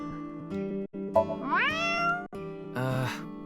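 A person in a video game meows at a lucky cat statue, making a few drawn-out, rising meows with short gaps between them, close and clear, with no other sound around. The voice imitates a cat.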